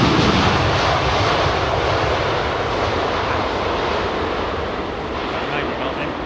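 Jet airliner engines roar loud and continuous at London Heathrow on runway 27R, a broad, steady rumble that holds throughout as someone talks faintly beneath it.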